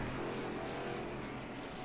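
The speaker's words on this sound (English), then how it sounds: "So you can hear these engines roar" Racing truck engines drone steadily at Bristol Motor Speedway during a full-throttle championship race, a continuous distant roar without distinct passes.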